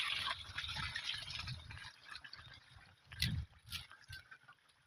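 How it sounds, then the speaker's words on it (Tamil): Irrigation water running through a channel toward banana plants on a farm, a soft continuous gurgle and trickle, faint and close, with a few louder splashes partway through. "எல்லாமே தண்ணி போய்கிட்டு இருக்கு"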